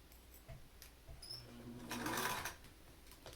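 Home sewing machine stitching a cotton face mask, running in short bursts with a whirring mechanical rattle that swells to a louder stretch midway, fairly quiet and close with no talk.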